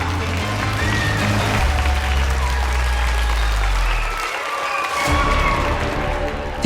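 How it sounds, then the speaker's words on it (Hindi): An audience welcomes a magician onto the stage at a magic show with loud, sustained applause from a large crowd that fills the whole stretch, with a brief dip near the end. "तो तालियों के साथ स्वागत करते हैं जादूगर वीर भारद्वाज का"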